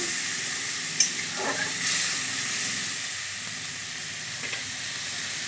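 Tomato paste and turmeric fry hard in a hot pan, a loud, close, steady hiss of sizzling with a couple of brief clinks near the start.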